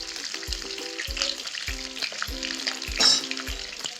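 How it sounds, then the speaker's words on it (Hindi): Jackfruit pieces fry in hot mustard oil with a steady, bright, close sizzle. A low thump recurs about every half second beneath it, and the sizzle swells briefly near the three-second mark, with no talking. "तो तेल अच्छे से गर्म हो चुका है, अब इसको फ्राई कर लेते हैं"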